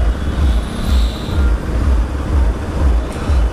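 Road traffic idles at a traffic light, with a loud, deep rumble of nearby trucks and cars pulsing low and a brief hiss like an air brake, continuous and close.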